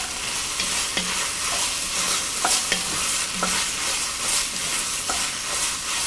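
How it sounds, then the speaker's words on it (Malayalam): Chopped garlic and ginger sautéing in a pan for chicken hariyali, a steady close sizzle with regular scrapes and taps of a spoon stirring, no voices. "എന്നിട്ട് വഴറ്റുക."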